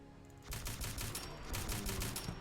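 A G3 rifle in the video game Fallout 4 fires a rapid string of loud, closely spaced shots, a continuous burst of gunfire with no talking.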